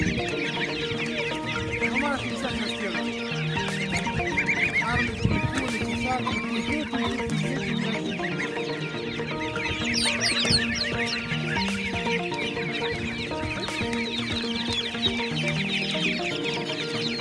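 Chickens cluck steadily throughout, several birds overlapping in busy, continuous chatter with occasional sharper calls, loud and close.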